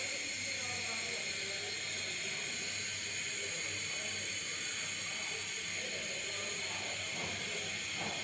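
Burger patty frying in hot oil in a home kitchen, a steady broadband sizzle and hiss that holds constant at moderate loudness with no voices over it.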